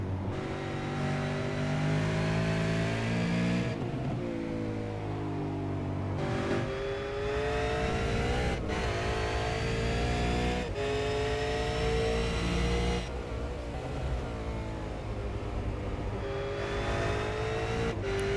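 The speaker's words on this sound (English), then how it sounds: "On board with Kane Kugemaya as he does his best to stay out in front of Bo Cattell" V8 Supercar racing at Brands Hatch heard from onboard, a loud continuous engine roar rising and falling with gear changes and revving through corners, with no talk over it.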